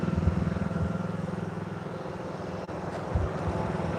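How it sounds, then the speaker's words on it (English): A small lawn tractor engine drones steadily at close range, a constant low rumble with slight throbbing and one brief dip. "I like that little lawn tractor."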